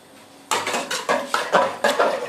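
A pot is stirred on the stove, with a quick series of about eight close, bright metallic scrapes and clinks of a utensil against the pot in a steady rhythm, no voices.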